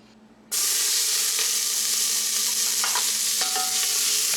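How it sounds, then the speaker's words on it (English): Half a finely chopped white onion hits hot olive oil in a pot with a sudden loud sizzle that continues as a steady frying hiss, with occasional stirring scrapes. "we're going to brown half a finely chopped white onion"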